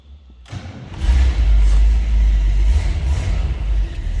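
A 1961 Cadillac Series 62 convertible cranks briefly, then its engine catches and settles into a loud, steady, deep rumbling run close by.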